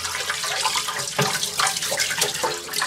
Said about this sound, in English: Then I get the hose. I normally do this. I don't really know why. I just wet it all down.